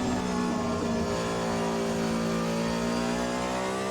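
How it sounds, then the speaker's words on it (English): Race car engine from Assetto Corsa, the ASR-H-2020, on a tyre-warming outlap: a loud, continuous whine that climbs steadily in pitch as it accelerates, with no talk. "So here we go with a bit of an outlap. Warming the tyres up."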